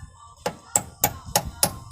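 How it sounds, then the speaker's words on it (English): A hammer taps a hose clip into place on a bracket during a 5-lug conversion on an 1987-93 Fox body Mustang: five sharp, close metallic knocks, evenly spaced about a third of a second apart. "just get a hammer, tap it into place"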